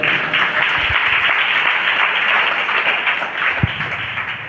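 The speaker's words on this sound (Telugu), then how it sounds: "చప్పట్లు కొడతారా గట్టిగా?" A church congregation at an Independence Day service claps loudly, a sustained dense wash of applause with a couple of sharper thumps.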